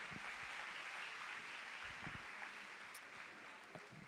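Audience applause at a Grade 10 maths workshop, a steady wash of clapping that holds evenly for several seconds without voices over it.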